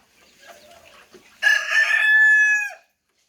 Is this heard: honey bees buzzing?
no